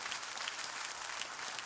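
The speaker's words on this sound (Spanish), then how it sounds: "dale un aplauso fuerte en adoración" Loud applause from a congregation during church worship, dense continuous clapping heard at a moderate distance without any voices.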